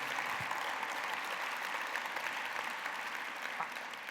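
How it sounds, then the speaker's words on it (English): Steady applause from an audience at a State of Downtown civic event, a dense, even patter of many hands clapping together, moderately distant and continuous with no talking over it. "please join me in a round of applause for John and his team"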